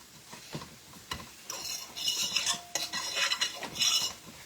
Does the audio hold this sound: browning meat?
yes